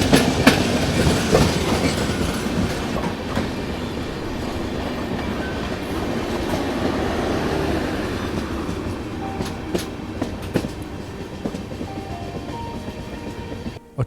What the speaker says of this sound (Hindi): और ये है हज़रत निज़ामुद्दीन चेन्नई राजधानी एक्सप्रेस।